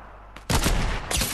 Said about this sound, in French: attends là, ça tire